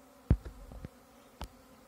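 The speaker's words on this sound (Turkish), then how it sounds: "Şu anda arı geliyor." A swarm of honeybees arriving at a hive buzzes faintly, a low steady drone with a few louder thumps and close passes.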